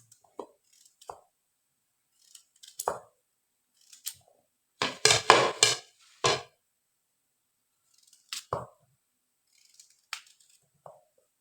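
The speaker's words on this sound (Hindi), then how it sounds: "मैंने तमाम गाजरों को काट दिए" A knife slices fresh carrots into rounds and lengthwise strips on a board in a home kitchen, with sparse, separate crisp cuts and a short quick flurry of chops in the middle, close and fairly quiet.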